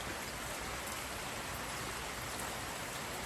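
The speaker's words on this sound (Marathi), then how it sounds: "पावसाने आता जोर वाढलाय, तुम्हाला आवाज येत असं" Heavy evening rain pours down over a farm, a dense, unbroken roar of drops drumming on surfaces, loud and steady throughout with no voices.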